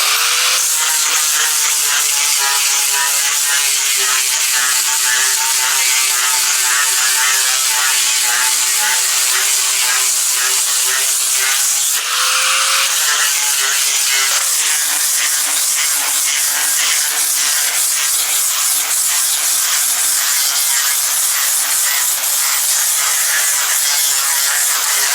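Angle grinder with a sanding disc scuffing a hardwood deck before coating, a steady high buzzing whine running throughout with a brief change in pitch midway, loud and close with no talk.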